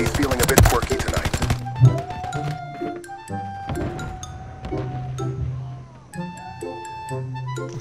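Rapid automatic gunfire in Call of Duty MW3, a fast loud burst of shots at the start followed by scattered single ticking shots and game sounds, with voices talking in the background.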